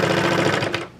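A serger overlocking the seam edges of skirt gore pieces, a fast steady mechanical whir-clatter running close and continuous, then slowing and trailing off near the end.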